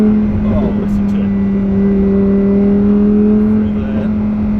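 A 2021 Lamborghini Huracan Evo RWD with a manual gearbox holds a loud, close, steady engine drone under load, its pitch staying nearly level throughout.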